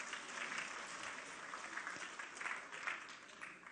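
Applause from a church congregation at a Sunday evening worship service. The clapping is soft and somewhat distant, a continuous patter with small swells throughout.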